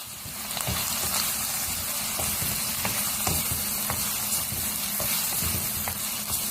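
Spices sizzle and fry in a hot pan with turmeric and salt while a spoon stirs them, giving a steady close crackle broken by soft scraping strokes, with no talking.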